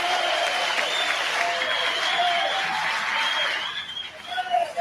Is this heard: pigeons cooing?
no